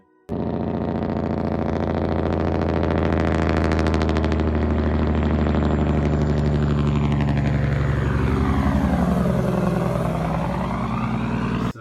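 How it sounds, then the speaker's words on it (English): Engine brake on a heavily loaded truck, a loud, steady, rumbling low drone that holds for about twelve seconds, alone with no talk. "That you hear, that's called a Jakebrake."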